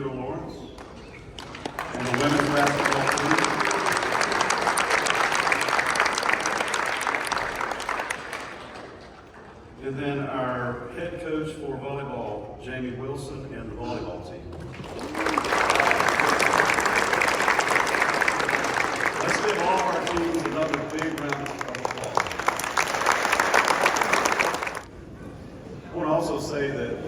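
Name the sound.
audience applauding the women's basketball team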